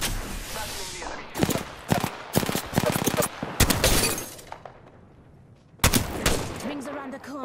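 Gunfire in the video game Apex Legends: loud, sharp bursts of rapid shots and single cracks, clustered in salvos with a quieter lull before another close volley.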